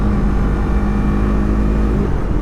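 A Yamaha R3 motorcycle runs with a steady low engine drone and a sustained hum, its revs held fairly even without a distinct sharp blip, continuous and close throughout with no talk.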